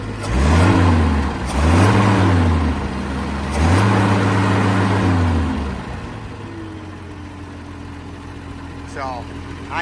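An Allis Chalmers D19 tractor, a barn find, runs nearby: the engine revs up three times in smooth swells, then settles into a steady, even idle.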